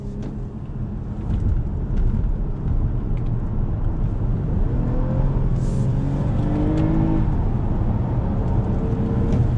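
A Toyota Camry XSE V6 sedan accelerating under throttle, with a steady, loud engine drone whose pitch climbs through the revs and dips briefly at a shift, heard from inside the car without talk.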